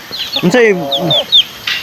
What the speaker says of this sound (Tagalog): Dami manok, malalaki yung manok nila dito mga kalangga.